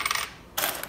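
Coins drop into an AH 88 CL 168 multi-coin selector, giving two bright metallic clinks and rattles close by, separated by a brief pause.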